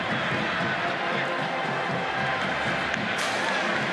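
A big college football stadium crowd roars and cheers steadily at a 2022 Kansas State at Iowa State game, a dense wall of noise with a brief sharp whistle-like rise near the end.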